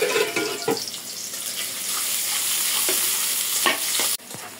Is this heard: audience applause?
no